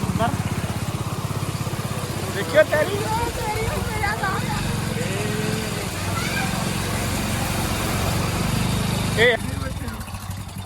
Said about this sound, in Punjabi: ਨਹਿਰ 'ਚ ਮੋਟਰਸਾਈਕਲ ਚਲਾਉਂਦੇ ਹੋਏ